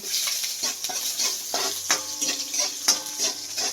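Chopped ginger and garlic sauté in hot oil in a pan, giving a steady close sizzle with repeated scraping stir strokes.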